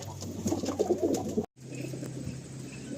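Pigeons in a loft give soft, rounded cooing calls, several overlapping coos in the first half, then a brief dropout followed by quieter murmuring coos and room hum.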